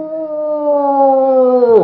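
A person imitates an old dog's howl with a single sustained, wavering howl-like voice that holds steady and then drops off sharply at the end, loud and close.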